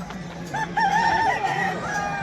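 An aseel rooster crows close by, a loud drawn-out cock-a-doodle-doo rising and holding before trailing off, over faint market background noise.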